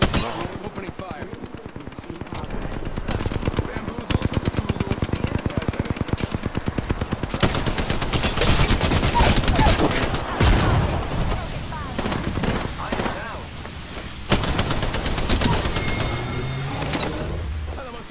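Rapid automatic gunfire bursts from the video game Apex Legends rattle in fast, loud volleys, broken by single shots and brief pauses, while a player talks now and then.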